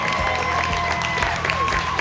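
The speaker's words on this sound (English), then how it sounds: "Let's give a round of applause to our contestants up here on the stage." Audience applauding contestants on stage during a welcome aboard show on a Carnival cruise ship, brief clapping and crowd noise mixed with music and background chatter.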